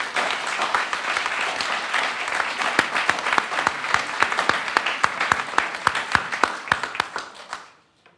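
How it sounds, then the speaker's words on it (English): Sustained applause from an audience at a bill signing for the ABLE Act, dense steady clapping that holds for several seconds and then tapers off quickly at the end. "let's give Ryan a round of applause"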